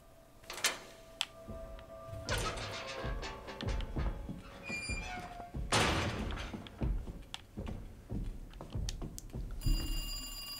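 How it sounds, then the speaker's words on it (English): Telephone ringing in Resident Evil 2, a bright repeated ring that comes amid scattered thumps, knocks and clatter in a busy, reverberant room, with the ring growing clearer toward the end. "And look, we got a phone call."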